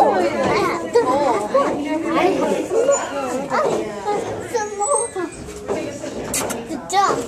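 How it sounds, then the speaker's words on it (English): Several dogs yip, whine and bark excitedly at close range over continuous chatter of people talking and children's voices. "There's so many dogs."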